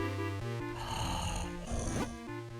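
A cartoonish snoring effect from a sleeping shoemaker in the Zelda game Minish Cap, heard as tonal, buzzy breaths that rise and fall in a slow rhythm, with game music running underneath.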